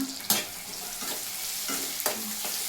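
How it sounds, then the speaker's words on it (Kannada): Onions frying and being stirred in a pan for saagu, a steady close sizzle with a few sharp spatula scrapes and clinks standing out through it. "ಇದು ಫ್ರೈ ಆಗಲಿ"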